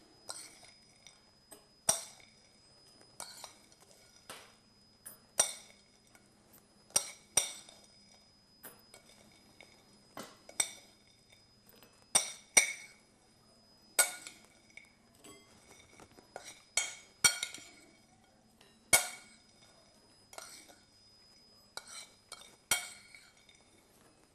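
A spoon scoops a crumb dessert base into four small dishes, making a series of quiet, irregular clinks and taps of metal against dishware with no talking.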